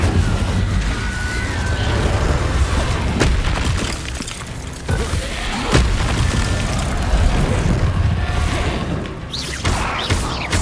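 The Incendio fire spell is cast in the Hogwarts Legacy video game, producing a dense, roaring wash of fiery bursts with a few sharper cracks, continuous and loud throughout.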